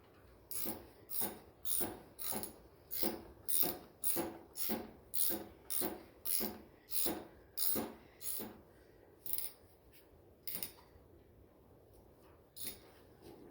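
Tightening the gas petcock on a Yamaha TTR125 dirt bike makes about fifteen evenly spaced ratcheting clicks close by, then a few slower, scattered clicks trailing off, with no talking.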